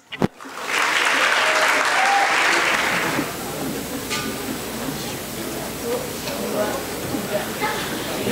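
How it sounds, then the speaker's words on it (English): Loud applause from an audience at an International Mother Language Day celebration at Penn State, a dense burst of clapping that swells at once, holds steady for a few seconds, then thins into scattered claps and room noise. "a big round of applause"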